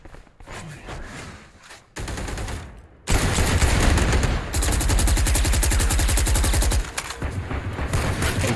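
Rifle gunfire in a Valorant esports tournament match, with scattered shots giving way to long, loud, rapid automatic bursts from two rifles, close and continuous with brief gaps.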